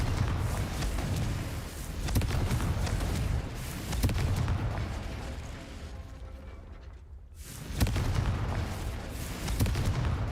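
Spell blasts from Bombarda and Confringo in the Hogwarts Legacy video game, a steady run of loud booming explosions and crackling impacts with a brief lull before another heavy burst.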